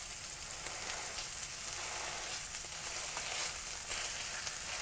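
Hamburger patties fry in a pan while being pressed down with a spatula, giving a steady, even sizzle throughout with faint scraping, close and moderately quiet, with no talking.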